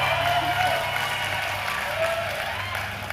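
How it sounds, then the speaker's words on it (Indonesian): An audience at a campus event applauds, a steady wash of clapping with crowd murmur and some cheering mixed in, holding fairly loud before easing slightly at the end. "Silakan kalau mau tepuk tangan lagi ISMA."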